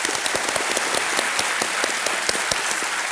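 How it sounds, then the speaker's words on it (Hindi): Studio audience applause welcoming a contestant on the quiz show KBC, a steady patter of many hands clapping at moderate level, with crisp individual claps standing out and no talk. "तालियों के साथ एक बार फिर इनका स्वागत।"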